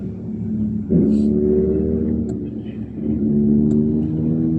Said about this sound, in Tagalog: naka big bike, isang paungol nga ng makina dyan